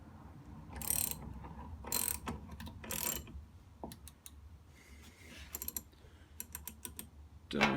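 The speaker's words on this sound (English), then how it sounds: "when you just tighten the bolt down, it'll push it that way and pop the crank out of the bearings" A socket ratchet clicks in short bursts while tightening a bolt to press the crankshaft out of the bearings of a 2019 RM 250 engine; close, sharp rapid pawl clicks separated by pauses, with quieter mechanical ticks.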